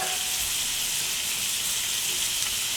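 Shrimp cooking in a pan, with a steady, even sizzle and hiss holding throughout at moderate level, no talking over it.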